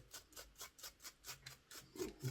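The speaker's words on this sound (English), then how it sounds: "Let's get the manky brush in here" Small brush scrubbing fluff from the mechanism of a Hornby Dublo A4 class model locomotive, a quiet, close, rhythmic rasping of about ten even back-and-forth strokes.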